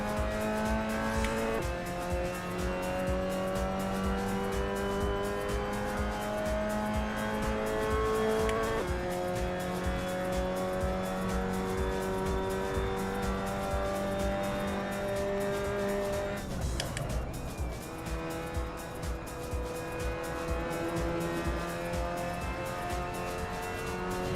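A Mazda MX-5 Cup race car engine laps Silverstone in a VR racing game, droning steadily with gear changes stepping the pitch, tire squeal throughout and a brief rough stumble partway through, loud and continuous without speech.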